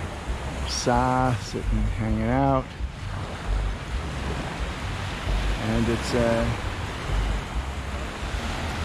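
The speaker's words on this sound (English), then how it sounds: "This is Cane Bay, Cane Beach here. Super nice place, nice beach, low waves today" Low waves wash steadily onto the beach at Cane Bay, St. Croix, a continuous surf and wind rush with someone talking over it now and then.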